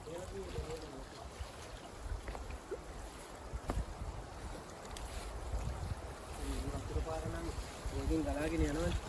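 Steady rushing water of a large stream flows throughout, a broad continuous wash, with voices talking intermittently over it.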